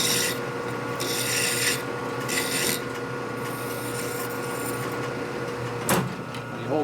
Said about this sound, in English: Here's my little triangle file. Chamfer on the back side.